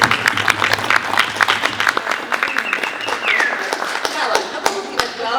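Applause from an audience at a circus-sector gathering, with scattered close hand claps and taps running steadily throughout over a busy room backdrop.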